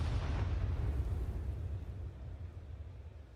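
A deep, rumbling grenade blast in Counter-Strike 2 rolls out heavy in the low end and slowly fades over a few seconds, with no voices over it.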